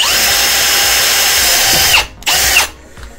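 Power drill boring out a seized bolt on a Suzuki Katana barn-find motorcycle, a steady close, loud whine for about two seconds that stops, briefly restarts for a short burst, then cuts off.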